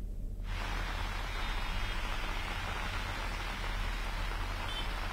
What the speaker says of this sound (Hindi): राजधानी रायपुर में आज सुबह से ही झमाझम बारिश का दौर जो है वो देखने को मिल रहा है